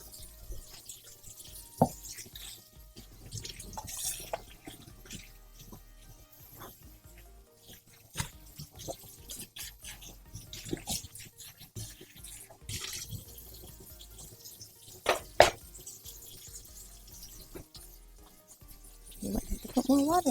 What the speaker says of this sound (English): Loud washing the dishes noises.